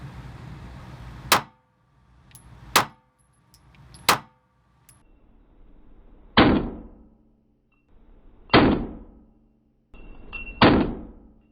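Six sharp gunshots from a modified SCCY CPX-1 pistol fired up close, spaced about one and a half to two seconds apart, each a loud crack with a short decaying echo.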